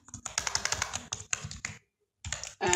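Fingers type code on a computer keyboard in quick, close bursts of clicking keys, with a short pause before a final few strokes.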